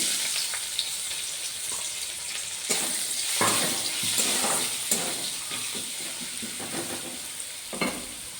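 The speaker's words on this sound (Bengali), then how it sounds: "কুচিয়ে রাখা পেঁয়াজ কুচি প্রথমে তেলের উপরে দিয়ে দেবো" Chopped onion frying in hot oil with whole cloves, cardamom and cinnamon, a steady loud sizzle broken by several stirring scrapes and sharper crackles, close by with no talk.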